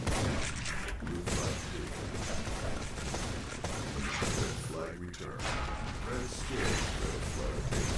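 A Nex weapon fires in a capture-the-flag video game match, sharp shots and mechanical clatter cutting through dense, busy game noise, with a quick burst near the middle amid constant loud action.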